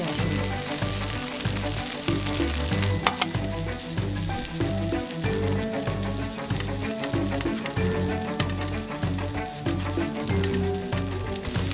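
Indian aster (malan tou) greens go into a wok with oil and shiitake mushrooms and stir-fry, giving a steady close sizzle broken by rhythmic scraping and stirring, with no talking.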